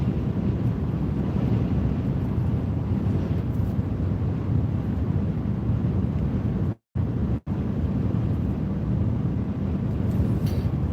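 Wind blows outdoors in a snowy setting, roaring steadily across the microphone as a dense, constant rush that drops out for two brief moments.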